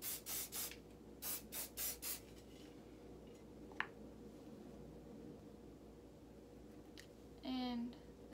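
Hairspray on freshly curled hair, heard as several short close hissing bursts in quick succession, then a few isolated sprays and one longer burst near the end, over a quiet room background.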